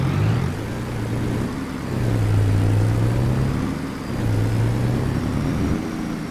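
Heavy truck engine in Farming Simulator 22, fitted with an 18-speed transmission, rising and falling through two or three swelling revs, a deep steady drone up close with no talk over it.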